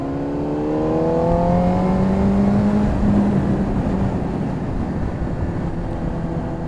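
A Ferrari 812 Competizione accelerates past with a loud, rising engine note, climbing harmonics sweeping upward and then blurring into broad roaring noise as it carries on away.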